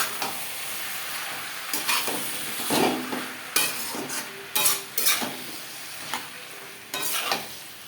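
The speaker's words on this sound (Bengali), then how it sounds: "আলু পেঁয়াজ ও টমেটোর সাথে মশলা বেশ ভালো করে মিক্সড করে দেবো" Potato, onion, tomato and spices being stirred in a hot pan for Bengali fish-head muri ghonto, with an oily sizzle under irregular scraping strokes and occasional utensil clinks against the pan.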